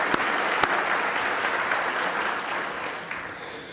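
Audience applause at a university opening convocation, a steady roar of many hands clapping that fades slightly toward the end, with a few sharp louder claps standing out early.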